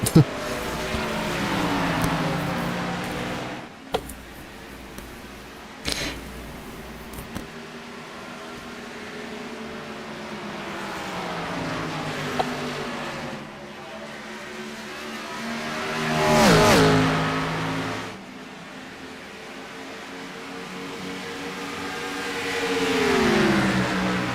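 NASCAR Gen 4 Cup race cars in a racing video game at Indianapolis, engines droning and revving in sweeping rises and falls as cars pass, with louder surges midway and near the end and occasional voices over the roar.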